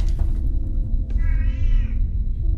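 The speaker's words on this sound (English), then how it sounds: "Can't concentrate with this cat meowing its head off." A cat in a horror video game lets out a single drawn-out, wavering meow over a low rumbling ambient drone, loud and close.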